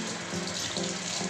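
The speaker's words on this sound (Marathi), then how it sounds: "आपण अशी पानं आपण धुवून घ्यायची" Tap water running steadily over leaves being washed for aluvadi, a continuous close splashing hiss with slight fluttering as the leaves move under the stream, no talking.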